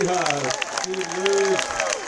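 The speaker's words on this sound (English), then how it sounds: "let's give them a round of applause" Audience applause at a festival opening ceremony, a steady wash of clapping from a crowd with voices carrying over it throughout.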